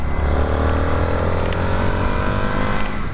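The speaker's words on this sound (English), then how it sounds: "And that sound the engine makes, oh, so good." The engine of a 2023 Indian FTR 1200 Carbon R motorcycle running close up, a deep, steady, fast chugging throb with no one talking over it.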